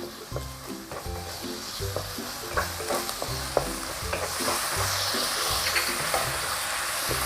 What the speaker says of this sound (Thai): ผัดจนเห็ดหอมสุกเลยนะคะ